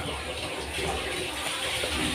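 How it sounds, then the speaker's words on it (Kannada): Water is poured slowly into chilli bajji batter being mixed in a home kitchen, a continuous soft splashing trickle that runs steadily throughout with no talking. "ನೀರು. ನೋಡಿ, ಇದೇ ಥರ ಮೆಲ್ಲ ಮೆಲ್ಲ ಹಾಕಿಕೊಂಡಿರ್ಬೇಕು."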